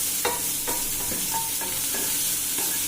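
Onions sautéing in a pan give a steady bright sizzle, punctuated by repeated spatula scrapes and taps against the metal at an uneven rhythm.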